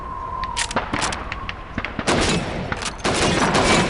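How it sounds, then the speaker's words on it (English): Rifle shots ring out at bottles and plates on a shooting range in Call of Duty 2, a series of sharp, loud cracks with irregular spacing, some close together, followed by denser bursts near the end. "Shoot those bottles and plates."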